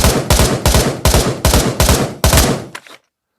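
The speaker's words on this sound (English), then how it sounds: "I'm going to do some control burst fire on the left, and then we'll do single fire on the right" A rifle fires in quick controlled bursts on a shooting range in the VR game Pavlov Shack, about seven sharp, loud, close shots spaced evenly, then a brief trailing crack and silence.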